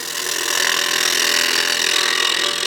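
A wood lathe cuts a tenon on a snowman oil candle blank, giving a steady, close, hissing scrape with no breaks.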